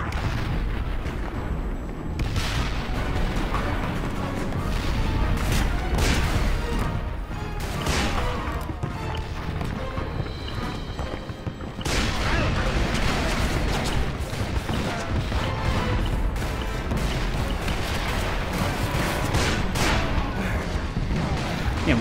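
Rapid, overlapping explosions and booming cannon fire from the Wild West shooter Call of Juarez: Bound in Blood form a loud, dense barrage that rolls on without pause, with only a brief dip midway before the blasts resume.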